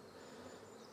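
Bees hum around an open honeybee hive during a heavy nectar flow, a faint, steady, continuous buzz with no voices.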